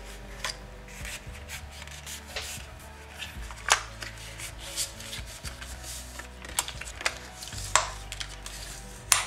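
Glued paper pieces for a handmade scrapbook handbag album are pressed and rubbed together by hand, giving soft, steady rubbing and shuffling with a few sharper taps and crinkles, close and alone.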